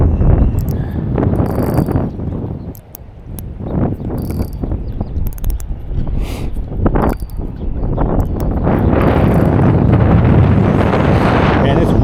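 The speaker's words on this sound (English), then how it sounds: "Man, it's windy." Strong wind gusts batter the microphone while fishing in 27 mph spring wind, a loud low rumbling roar that surges and dips, easing briefly then building to a sustained blast, with faint talk underneath.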